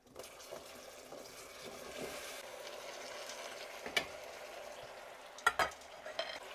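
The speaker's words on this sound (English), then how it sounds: "I'm going to stir them around like this so that they can cook" Apples stirred in melted butter in a pan over a soft, steady sizzle, with a few sharp utensil clicks against the pan near the end.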